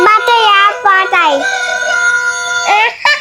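A toy animal-sound trumpet imitates a rooster crowing: loud, close, tonal cock-a-doodle-doo calls with wavering pitch, one long sustained note in the middle and a short call repeated at the end.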